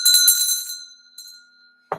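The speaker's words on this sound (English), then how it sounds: "I got to ring a bell." A bell is struck once and rings out with a bright metallic tone, the sustained partials decaying over about a second, followed by a brief soft knock near the end.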